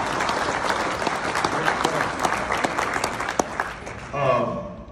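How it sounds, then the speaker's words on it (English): Audience at a banquet applauding a person, dense close clapping with a few sharper claps standing out, easing off at the end as a speaker's voice comes in. "Let's have a round of applause for Eva McGuire, please."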